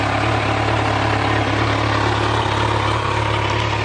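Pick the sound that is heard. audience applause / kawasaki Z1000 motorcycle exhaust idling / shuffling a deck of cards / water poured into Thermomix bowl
kawasaki Z1000 motorcycle exhaust idling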